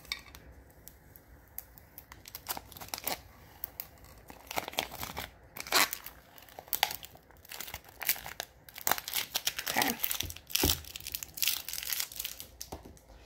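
Vinyl decal being peeled at an angle off a tumbler: close, quiet crinkling and crackling bursts of plastic film, irregular and intermittent, with brief light clinks and no talk.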